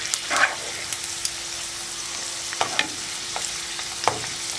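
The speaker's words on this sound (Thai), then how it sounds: "หลังจากทอดมาระยะหนึ่งตอนนี้กระเทียมเราเหลืองนะครับไส้เราก็เหลืองละ" Pork intestines and garlic deep-frying in oil, a steady close crackle with a faint constant hum underneath and a few sharp pops and scrapes from stirring scattered through.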